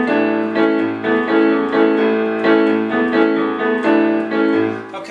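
Piano playing the guitar lick from a song, a rhythmic pattern of repeated chords over a recurring bass note, loud, close and steady with no voices.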